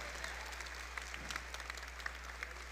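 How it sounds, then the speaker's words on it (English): Audience applause at a conference opening ceremony on a main stage in Bogotá, a steady, moderately distant patter of clapping hands with scattered louder claps, continuing throughout. "another round of applause."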